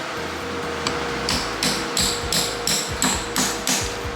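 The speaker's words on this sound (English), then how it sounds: "roll pin that we need to drive out in order to get all these gears out" Hammer driving a roll pin out of Murray riding tractor gears, about eight regular metallic strikes close by, steadily paced and growing sharper.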